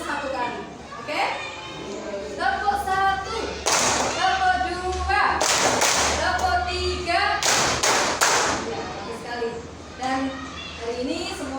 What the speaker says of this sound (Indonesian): Agar lebih semangat, mari kita tepuk sesuai abad.